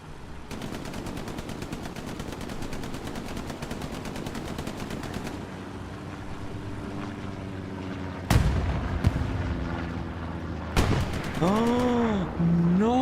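A tank battle in the WWII game Hell Let Loose at Omaha Beach, with rapid machine gun fire rattling steadily before two heavy, loud cannon booms land, joined later by whistling, swooping effects.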